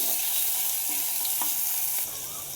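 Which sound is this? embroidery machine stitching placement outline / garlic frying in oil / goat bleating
garlic frying in oil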